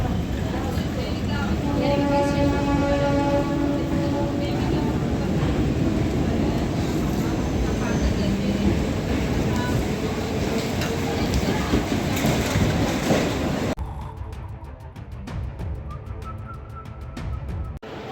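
An electric train standing at a station gives a steady, loud rumbling hum with a faint tonal whine, while someone talks over it. Near the end it cuts to quieter platform ambience.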